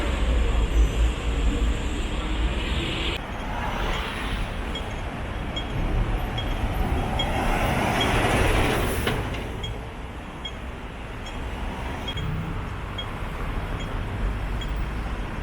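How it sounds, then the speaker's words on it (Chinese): A Hong Kong metro train departing from Jordan rumbles along with a steady low roar of wheels and motors, swelling and easing as it runs, close and continuous throughout. "最后在佐敦道坐地铁回深圳"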